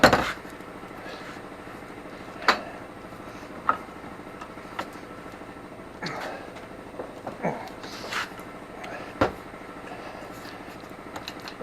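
Metal U-joint parts held in a bench vise while the grease cap is pried off give sharp, scattered clinks and taps, several distinct knocks standing out over a low steady background.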